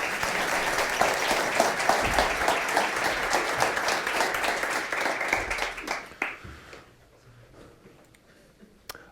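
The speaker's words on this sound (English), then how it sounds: "Let's give them all a round of applause" At a Stockholm Hardware meetup, an audience claps in dense, lively applause that thins into scattered claps and dies away over the last few seconds.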